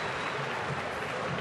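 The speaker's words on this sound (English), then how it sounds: "Listen to the fans applauding for him too." Baseball fans at a Braves home game against the Phillies applaud steadily for a batter, a dense wash of clapping from a large stadium crowd, fairly distant and continuous.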